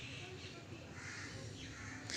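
A crow cawing near a large monkey among nesting pigeons, with faint, distant calls over steady outdoor background noise and a brief brighter burst at the end.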